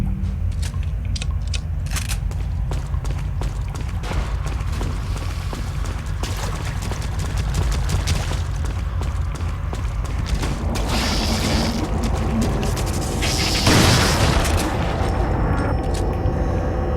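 Shotgun blasts and heavy booms from gameplay of Resident Evil 4 on PS4, loud deep thuds over a constant rumbling game soundtrack with mechanical clatter, a stronger burst near the end.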